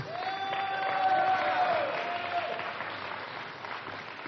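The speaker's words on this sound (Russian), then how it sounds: "Да, можно хлопать, можно аплодировать Иисуса," Congregation applauding during a church sermon, a sustained wash of many hands clapping at moderate distance that swells and then gradually tapers off, with a faint sustained tone underneath.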